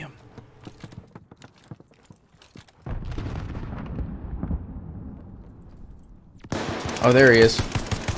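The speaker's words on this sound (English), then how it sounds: "I shot him through the brick wall" Gunfire in Call of Duty Vanguard, shots fired through a thick brick wall, bursts of rapid reports rising loud midway through, with someone speaking briefly near the end over game noise.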